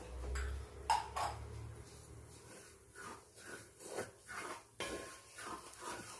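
A metal spoon scrapes and clinks against a pan while roasting rava avalose podi with sesame seeds and cumin, soft irregular stirring strokes close by with a couple of sharper taps.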